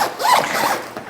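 A zipper slides along a hiking backpack pocket in one quick, close, smooth pull lasting about a second, with no talking.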